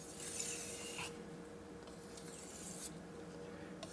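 Blade being honed on a Morihei 4000 whetstone: faint, close rasping strokes, a few swishing passes of steel across the wet stone in an uneven rhythm with short gaps between them.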